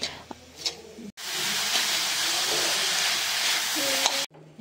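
Grated coconut and jaggery sizzle and crackle in a hot pan, a loud, even frying hiss that starts abruptly and holds steady, with a few clanks of stirring before and after.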